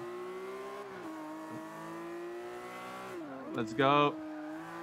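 A Lamborghini Aventador's engine drones steadily in Forza 5, then briefly revs and rises sharply near the end, while a voice speaks over it.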